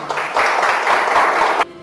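A church congregation applauds in a dense, loud burst of clapping lasting under two seconds, then stops abruptly.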